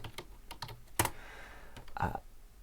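Someone is typing a search into a search bar on a computer keyboard. The key clicks come in short irregular bursts, close and quiet, and no one speaks.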